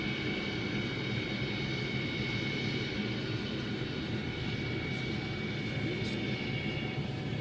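A NASA ER-2 high-altitude aircraft's engine roars steadily before takeoff, a loud continuous broadband rumble with a sustained whine, unbroken throughout.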